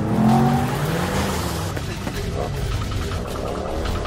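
A car chase in an action film, with a loud roaring engine and squealing, skidding tires that slide in pitch, all blended with busy movie sound.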